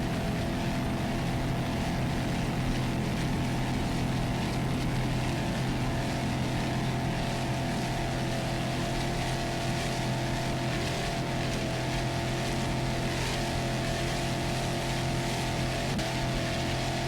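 A 30-foot Phantom racing powerboat engine roars continuously and loudly in an offshore race, a dense steady drone with no pauses throughout.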